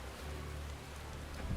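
Pouring rain in a Final Fantasy XIV: Stormblood cutscene, a dense, low, steady wash of rainfall with a faint rumble underneath, fairly quiet and continuous.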